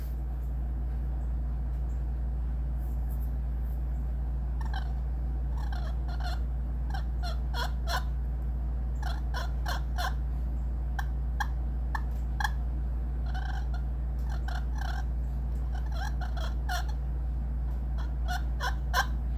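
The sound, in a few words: slate turkey call being played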